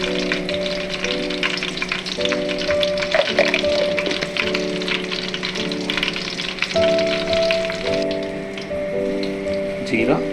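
Green chillies and cumin seeds frying in a pan give a steady, busy sizzle throughout, with a sustained tonal hum running underneath.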